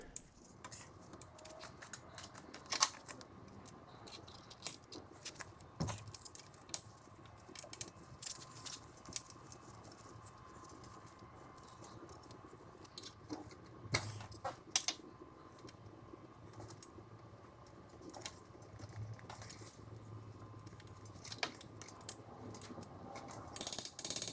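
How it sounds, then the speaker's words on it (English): Small metal pins on spring-type lower motor arm parts for an EF hatch are unlocked and slid out, giving faint, irregular ratcheting clicks and light mechanical rattles close by, with no talking. "I'm gonna go ahead and get those unlocked, pull out the pins, start sliding them over"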